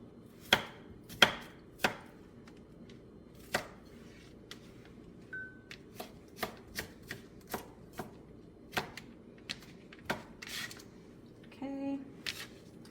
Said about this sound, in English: 2 cloves of garlic. Again, diced fine.